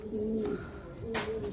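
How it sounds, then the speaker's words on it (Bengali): Low, throaty coos from a Lahori pigeon at a pigeon sale centre, two drawn-out calls close to the listener with a short pause between them, and no speech. "এখানে একজন লাহোরি কবুতর"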